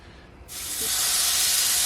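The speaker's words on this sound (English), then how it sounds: "I want to give it a little bit of a spray with oil, just so that they don't burn in the pan" A close, loud burst of oil spray hits mushrooms in a very hot pan and turns into a steady, bright hiss and sizzle that continues to the end.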